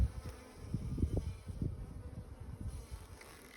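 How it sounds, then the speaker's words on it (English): Honeybees buzz around an open hive while frames are inspected, a close, uneven drone with individual bees droning past the microphone in short swells. "We're starting to get in a few more bees."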